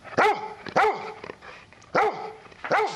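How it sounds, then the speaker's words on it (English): A golden retriever therapy dog barks four times in sharp, loud bursts with short gaps, the barks close and clear over a quiet background with no talking. "Meet Ellie, a golden retriever from Donetsk."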